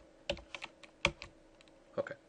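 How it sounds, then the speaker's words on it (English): Keystrokes on a computer keyboard during a Windows software install, a few sharp clustered taps with short pauses between them, close and clear with no talking. "it's hard to type and talk at the same time"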